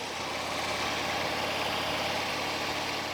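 A police motorcycle engine drones steadily while riding along a curvy road around a lake, a constant close rumble with wind noise and no talking.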